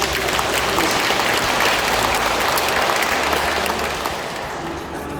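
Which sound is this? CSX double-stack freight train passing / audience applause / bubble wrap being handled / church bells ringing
audience applause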